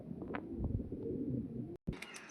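Breeding pigeons in a loft setup coo in deep, rolling, continuous murmurs close at hand, broken by a brief cut of silence before the cooing resumes.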